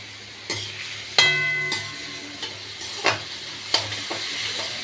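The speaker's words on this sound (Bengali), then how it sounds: "আগে একটু নেড়ে এটা করে নিই মানে এবার আঁচটা বাড়িয়ে দিলাম ফুল করে দিলাম" A spoon stirs a tomato masala with mustard seeds, ghee, cloves, pepper, cardamom, green chilli and ginger frying in a pan on full flame. Close metallic scrapes and clinks recur over a steady sizzle.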